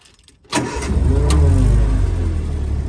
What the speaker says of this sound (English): let's fire this Jeep up and show you what the engine runs like